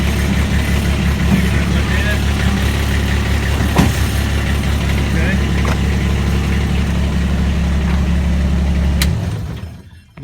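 A diesel pickup truck engine idles steadily after starting, a loud, constant low rumble that holds for about nine seconds before cutting off, with brief talk over it.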